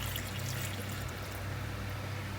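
Gravy pours into a pot for mashed potatoes in a home kitchen, a soft steady liquid stream with a low hum beneath, faint and continuous with no talk.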